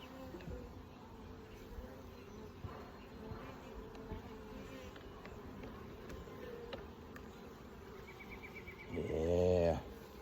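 Honey bees buzz in a nuc box being opened in West Virginia, a steady close hum of many insects, with a louder, nearer buzz swelling briefly toward the end.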